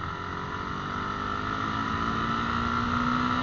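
Motorcycle engine accelerating steadily under throttle during a motovlog ride, a continuous loud drone with rising pitch and wind rush, no voices.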